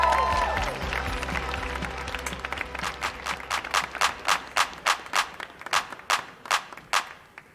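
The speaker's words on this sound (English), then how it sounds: "Start clapping right now for the next poet coming up" A poetry festival audience gives loud, steady applause that gradually thins. It ends in a slower run of single, evenly spaced claps, a dozen or so distinct hand claps close by.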